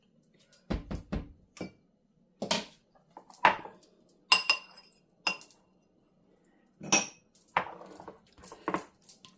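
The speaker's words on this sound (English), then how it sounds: "Make sure it's all stirred up" Homemade blueberry pie filling stirred in a pot, a string of separate clinks and scrapes of a utensil against metal with short pauses between, close and fairly quiet.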